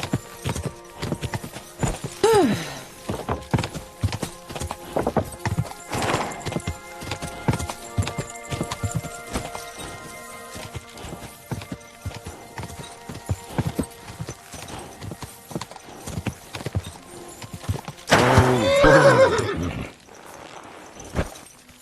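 Horse hooves clip-clop steadily up close in the video game Kingdom Come: Deliverance II while the animal snorts and huffs, ending in a loud whinny near the end.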